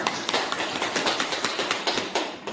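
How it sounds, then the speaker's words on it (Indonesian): Classroom applause follows a group presentation, a dense run of overlapping claps from a room of students, steady and fairly loud for a couple of seconds with no voices over it. "Kasih aplaus dulu."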